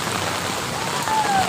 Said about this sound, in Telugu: దీపు వర్షంలో తడుస్తా.